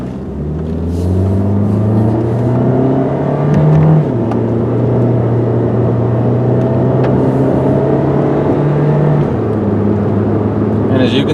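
A 1999 Saturn SC2 coupe accelerating from a start, its engine tone climbing steadily and dropping at two gear shifts, heard steadily from inside the car.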